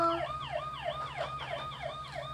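An electronic toy police car siren wails in a steady repeating up-down sweep, bright and tinny, with a low hum underneath; no talking.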